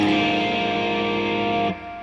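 A heavily distorted, low electric guitar chord in drop D tuning sustains for under two seconds, then drops away abruptly into a quieter ringing tail, no speech.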